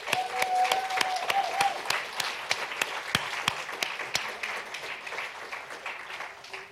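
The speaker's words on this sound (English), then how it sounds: "give yourself a round of applause for the amazing work that you do" Audience at an awards event breaking into applause, crisp claps and a continuous crowd patter filling the whole stretch, tapering slightly toward the end.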